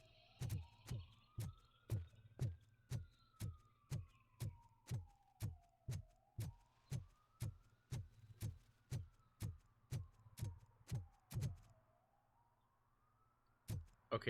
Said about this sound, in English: I'm hearing the police sirens going off